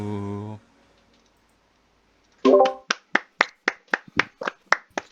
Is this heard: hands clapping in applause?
yes